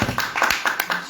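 Students in a classroom clap their hands, a few sharp scattered claps and taps over roughly a second, close and moderately loud.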